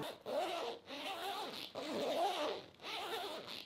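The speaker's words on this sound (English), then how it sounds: "The YKK zips always help to repel the water and is extremely easy to zip up" A YKK zipper on a vegan motorcycle jacket is zipped repeatedly, a close, quiet ratcheting rasp in several strokes with short pauses between them.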